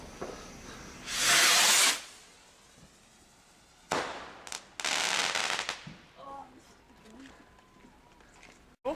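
Bonfire night fireworks and firecrackers go off nearby: a loud hissing rocket-like burst, then sharp cracks and another sustained crackling volley, with people talking in between.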